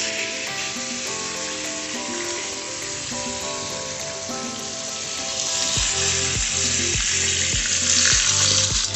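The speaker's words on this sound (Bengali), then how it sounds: "আমাদের রিম্পা ম্যাডাম ভাজছে আলু" Potatoes sizzle and crackle in hot oil at an outdoor picnic cooking spot, a loud continuous frying hiss with scraping stirs and clinks growing busier toward the end.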